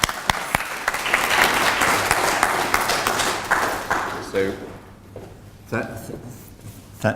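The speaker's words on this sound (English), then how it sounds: "So, very big round of applause there." A book launch audience in London applauds warmly for several seconds, the clapping thinning out and fading before a voice begins to speak.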